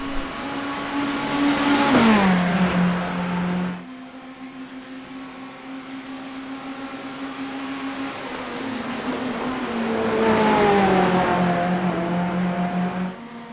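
Racing cars in a GT3 video game roar past with rising and falling engine pitch, loud and close at the start, a steadier drone in the middle, then another loud pass swelling near the end.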